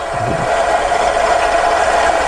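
A Hornby HM7000 sound decoder in a model locomotive plays a steady, emulated diesel engine rumble, a close, constant droning hum with a faint rattle and no voices.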